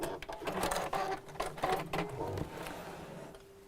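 A domestic sewing machine stitches faux fur with a stretchy knitted back for a bag, running in short rapid bursts with brief pauses between, close and clear.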